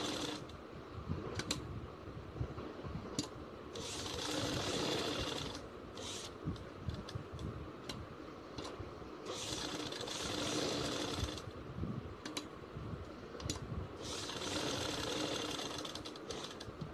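A sewing machine stitches a poncha in loud, steady runs of rapid whirring, broken by short pauses and clicks, with no talking.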